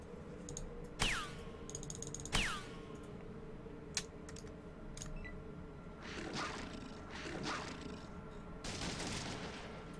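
Short bursts of rapid gunfire from companion Cassidy in Fallout 2, two sharp volleys with ricocheting whines, then softer clattering mechanical bursts, faint and fairly distant, with no talk.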